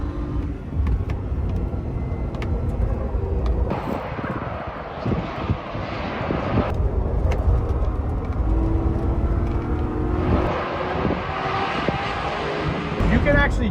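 A Corvette drives hard through a corner on a race track, its engine a steady low roar that swells and rises in pitch as it accelerates, with people talking over it.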